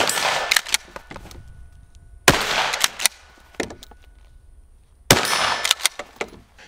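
Budget Turkish pump-action 12 gauge shotgun firing birdshot outdoors, three loud sharp blasts spaced a few seconds apart, each followed by echoing reports and the clack of the pump action.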